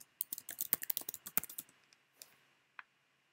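A computer keyboard being typed on up close in a quiet room: a fast run of crisp key clicks for about two seconds, then a pause and a few separate final taps, with no talking.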